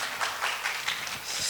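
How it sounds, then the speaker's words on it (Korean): Church congregation during a Sunday service giving a round of applause, a brief burst of clapping from many hands at moderate loudness, rising again toward the end. "이런 박수 한번 주셔야 되는데"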